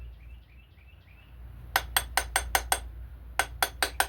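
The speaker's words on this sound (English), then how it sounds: "Need something to tap with. Where's my hammer ratchet?" A hammer ratchet taps to loosen a part during reassembly of a rusty 318 engine: six sharp metallic knocks in quick rhythm, a pause, then four more. Faint bird chirps come before the taps.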